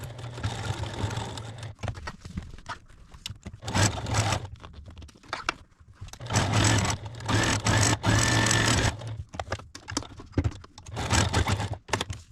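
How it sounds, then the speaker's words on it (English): A sewing machine topstitches a zipper on a fabric jewelry roll. The motor whirs in several bursts of steady stitching, separated by short pauses and quieter handling sounds, with no one speaking. "Right here, I'm top stitching the last zipper."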